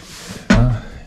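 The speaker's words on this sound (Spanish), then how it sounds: "y adentro, aquí cierra la puerta" A UAZ Hunter off-road vehicle door swings shut with a single solid, close thud and a short metallic resonance that quickly fades.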